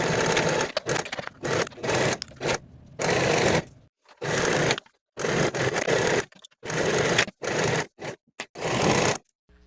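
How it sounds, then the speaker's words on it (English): A sewing machine stitches the side seams and inseams of pull-on pants in repeated loud, close bursts of steady whirring, each a second or so long, separated by short silent pauses. "Now I'll sew the side seam and the inseam for both sets with the seam allowance"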